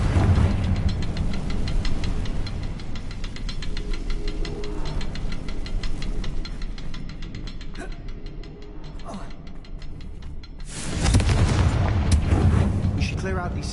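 The Confringo fire spell in Hogwarts Legacy goes off amid continuous heavy rumbling combat noise, with a fresh loud burst erupting near the end. Voices can be heard.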